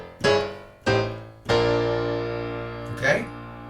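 Piano left-hand notes walk upward one at a time in a gospel style, each struck clearly and left to ring. The final note carries the longest sustain, and no one speaks over the notes.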